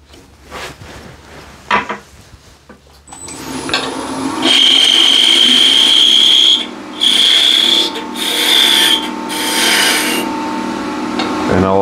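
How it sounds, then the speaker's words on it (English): A hand plane shaves a wooden dowel into a cylinder, making close, repeated rasping strokes with a bright scraping whine, in steady passes without speech. "now just plane"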